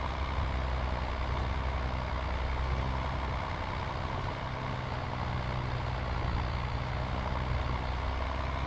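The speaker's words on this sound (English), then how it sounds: "You can hear it. The engine's bogging down." A tractor's engine bogs down under load while making windrows in Farming Simulator 22, a loud, heavy, continuous diesel drone with a low rumble that holds steady throughout.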